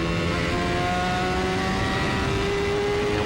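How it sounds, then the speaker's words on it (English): An IndyCar race car engine heard onboard at Road America holds a steady, sustained high-pitched drone, close and continuous, as the driver modulates the throttle gently, with no voices. "You hear him play with the throttle."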